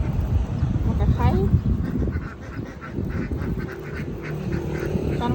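Domestic ducks quack repeatedly at close range, a loud busy flock calling over each other with honking bursts, mixed with someone talking throughout.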